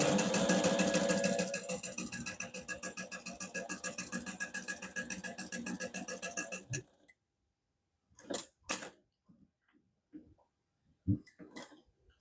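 A sewing machine stitches a narrow seam with a rapid, even clatter of needle strokes, close and steady for several seconds before stopping. Faint clicks and handling taps of fabric follow in the quiet.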